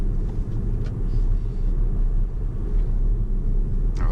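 A Tesla car driving on Autopilot, its steady low road rumble and tyre noise continuous and fairly loud throughout, with no talk.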